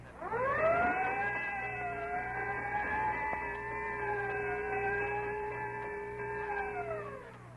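A loud wailing fire siren rises, holds a steady sustained tone with slight wavering, then winds down, heard alone without voices, from a 1932 radio broadcast.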